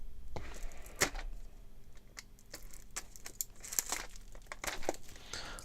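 The plastic casing of a USB 3 enclosure is pried open by hand, with close, quiet crinkling, sharp clicks and small snapping cracks scattered irregularly throughout.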